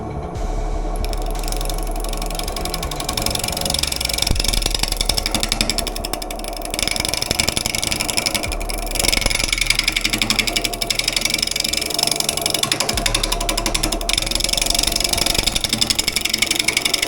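Wood lathe with a roughing gouge turning a wet log, a loud continuous mechanical whir and chatter with steady low hum, sustained throughout without talk.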